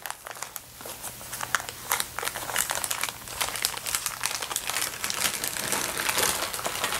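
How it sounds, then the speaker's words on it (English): Parchment paper peeled away from a sheet of freshly baked lemon puff cake, giving a steady stretch of close, crisp crinkling and crackling with no talking. "I want to remove the parchment paper that it baked on"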